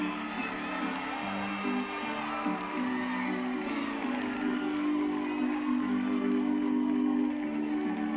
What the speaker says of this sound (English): The crowd's getting into this.